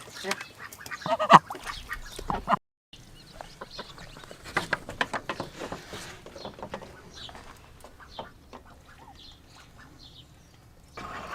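Ducks at morning feeding quack and chatter in a dense, busy flock, with irregular loud calls up close and softer clucking spread throughout.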